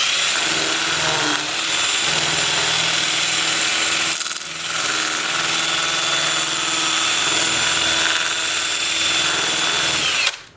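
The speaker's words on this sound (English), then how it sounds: "I'm just going to use my Sandoflex and just gently at a low speed go around there and just kind of clean that up" A Sandoflex sander run at low speed smooths a small turned wooden candle holder, giving a steady close whine and rumble with one brief dip midway before it cuts off at the end.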